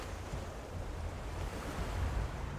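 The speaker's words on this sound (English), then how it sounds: "in the background, for some reason, we hear the waves of the ocean" Ocean waves in the Guild Wars 2 End of Dragons game world, a soft rolling surf with gentle swells and a breezy wash, steady and fairly quiet with no voices.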